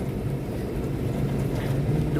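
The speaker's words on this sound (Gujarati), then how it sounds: "આજે તો હવાનો વરસાદ ચાલુ જ છે." Wind and rain outdoors make a steady, loud broadband roar with a low rumbling undertone, continuous and without pauses.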